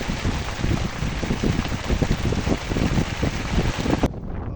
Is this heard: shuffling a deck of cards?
no